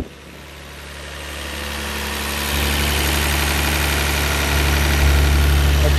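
A Nissan RB26 engine idles after being power washed, a steady low rumbling drone that grows slightly louder partway through, close and continuous with no talking.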